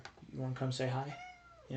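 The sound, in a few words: cat meowing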